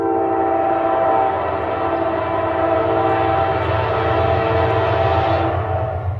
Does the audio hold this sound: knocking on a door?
no